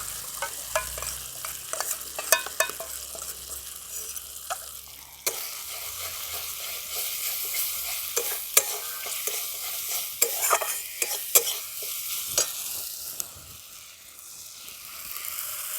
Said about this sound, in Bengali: এরপর আমি যে মশলার পেস্টটা বানিয়ে রেখেছি এটা দিয়ে দিচ্ছি।